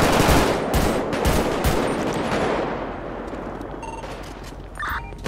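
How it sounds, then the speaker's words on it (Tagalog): Sustained automatic gunfire in a war-themed video game, dense rattling bursts at close range that thin out and fade toward the end, with a few sharper isolated shots. "Titigil nga tayo pag baril."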